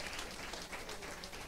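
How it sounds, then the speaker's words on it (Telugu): Audience applause at a church Christmas celebration in Salmiya, Kuwait, a steady dense wash of many hands clapping, fairly distant and even throughout, without voices. "దయచేసి అందరం గట్టిగా చప్పట్లు కొట్టి వీరందరినీ మనం అభినందిస్తాం."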